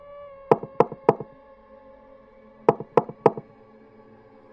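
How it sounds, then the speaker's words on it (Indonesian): Someone knocks on a house door at night in two sets of three sharp, evenly spaced raps separated by a short pause, with a quiet steady background behind them. "terdengar ada suara seseorang yang mengetuk pintu rumahnya"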